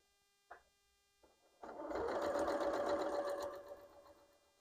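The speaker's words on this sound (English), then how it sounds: "go to the sewing machine, and we're going to sew this" A couple of soft clicks, then a sewing machine starts up and hums in a fast, steady run of stitching fabric for a few seconds before slowing.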